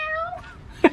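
A short, close meow, likely from a person imitating a cat, rises and falls, followed by a brief sharp sound at the end.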